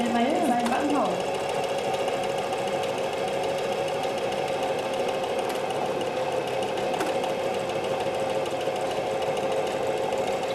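A Singer Heavy Duty 4423 sewing machine stitches a buttonhole with a steady, fast mechanical whir that runs evenly throughout, close and fairly loud.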